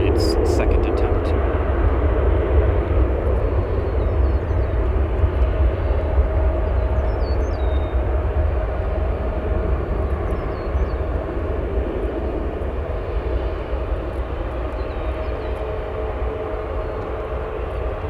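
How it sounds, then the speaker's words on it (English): A Boeing 787 takes off from runway 10 left at O'Hare, a loud continuous jet engine roar that holds steady and slowly eases, with a voice talking over it. "787 is going to be departing full length on 10 left."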